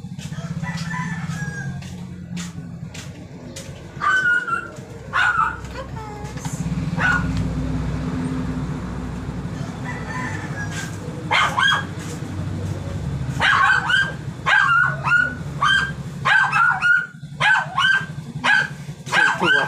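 Dogs bark repeatedly amid loud rooster crowing and farmyard bird calls, busy and mixed at moderate distance, with faint voices in the background.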